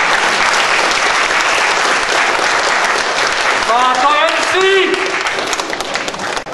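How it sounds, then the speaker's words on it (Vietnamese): Loud, sustained applause from a concert audience at a Thanksgiving concert, steady clapping throughout with brief voices and whoops breaking through near the middle before it begins to taper at the end. "xin một tràng pháo tay cho toàn thể quý vị."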